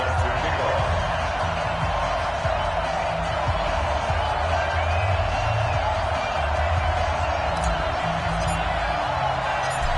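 A stadium crowd in the video game Madden 20, at an NFL game against the San Francisco 49ers, makes a steady, distant murmur of cheering that holds for ten seconds.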